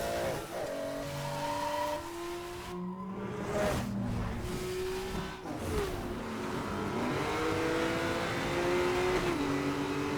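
Racing car engines from the Need for Speed: Most Wanted 2 video game roar and rev continuously, with pitch sweeping up and down through gear changes, and tires squeal briefly, loud and close throughout.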